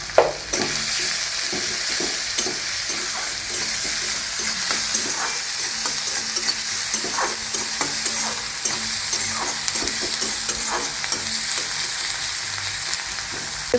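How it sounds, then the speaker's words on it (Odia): Onions frying with salt in a pan for Odia-style egg curry, a steady close sizzle throughout with frequent scraping stirs, no voices. "ପିଆଜ ଉପରେ ଟିକେ ଲୁଣ ଦେଇଦେଉଛି ଜଲ୍ଦି ପିଆଜଟା ଭାଜିଯିବ ବୋଲି"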